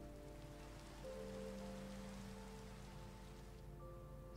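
Steady rain falls in Minecraft after a weather command, a soft, even patter hissing continuously with faint tonal game sounds behind it.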